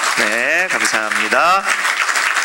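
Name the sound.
congregation applause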